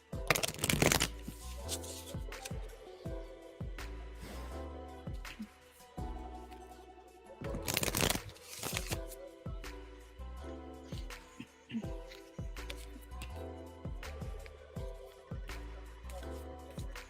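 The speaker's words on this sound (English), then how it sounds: "Sarah, I am shuffling for you right now." Tarot cards shuffled by hand for a reading, a long run of crisp riffling bursts and softer slides repeating irregularly, close and clear with no talking over it.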